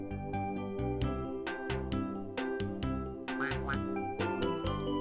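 Cartoonish duck quacks from the TurboGrafx-CD video game Baby Jo the Super Hero play in quick, bouncy bursts over a steady game music loop. The sound is close and clear, with no talk over it.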